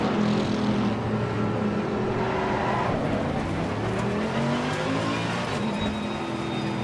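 A race car engine in the Assetto Corsa Competizione video game at Imola drones steadily at a constant, fairly quiet level, with smooth rising and falling pitch that suggests gradual acceleration, and no voices over it.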